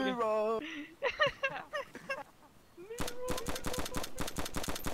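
Automatic gunfire in the video game DayZ, a rapid, loud burst of evenly spaced shots ringing out close by, following excited shouting from players.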